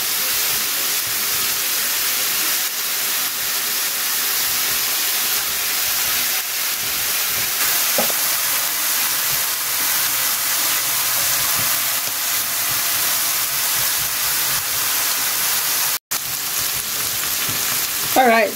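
Four smash burgers sizzling on a hot griddle, a loud continuous frying hiss that holds steady throughout with small crackles and a brief scrape near the end.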